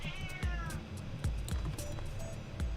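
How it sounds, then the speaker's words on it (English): A cat meows loudly and repeatedly close by, with drawn-out wavering cries amid indoor background noise. "Cat's meowing if you guys can't hear that."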